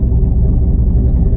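An LS V8-swapped Nissan 300ZX drives along a street, its engine giving a steady, loud low-frequency rumble that holds even throughout, close up with no talk.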